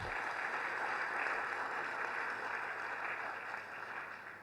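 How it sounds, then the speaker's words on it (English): Audience applause at the opening of the 6th Africa Leadership Forum in 2019, a dense, steady wash of clapping from a large crowd that holds for several seconds before easing slightly. "Can we give this a round of applause,"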